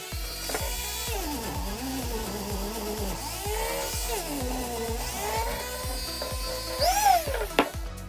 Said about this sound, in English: So I guess that means on to more Dremel work.